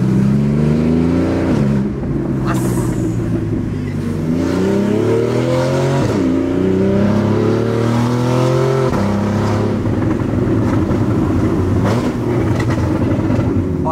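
A car engine revs hard while driving, loud and close, its pitch repeatedly climbing and dropping through several throttle surges over a steady road roar, with no voices.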